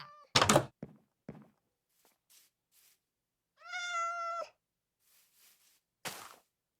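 A Minecraft cat gives one clear, fairly close meow in the middle of a quiet stretch, with thumps and a few faint clicks before and after it.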